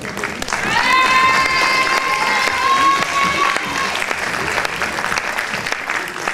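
An audience at a Miss Lorraine beauty pageant claps for a jury member, a loud, sustained wave of applause that eases off toward the end, while a brief sung or whistled tone rises above it early on.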